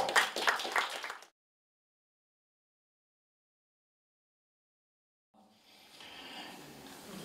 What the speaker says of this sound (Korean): 우리 힘차게 감사 한번 감사 박수 한번 드릴까요?